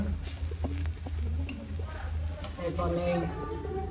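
Onions frying in oil for beef trotter nihari, a continuous close sizzle with light stirring scrapes, while a voice talks over it.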